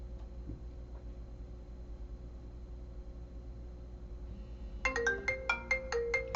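An incoming-call ringtone on a Unify Circuit telephony setup cuts in after several seconds of low hum: a quick, repeating electronic chime pattern, moderately loud and steady.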